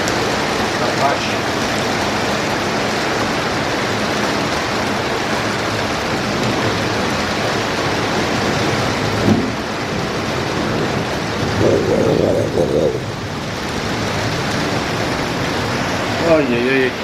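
Thunderstorm with heavy rain, a dense steady roar of downpour throughout with low rumbling swells, and people talking faintly over it.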